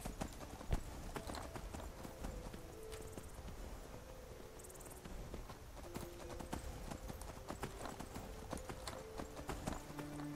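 A horse ridden in Skyrim, its hooves clip-clopping in a steady rhythm throughout, close and continuous with faint clinks of tack and a low ambient bed, no voices.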